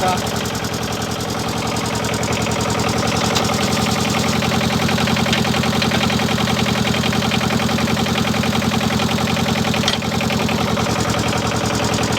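An Avant ProfiCat mini loader's Kubota diesel engine runs nearby, with a constant rapid clattering throb that holds steady and unbroken throughout.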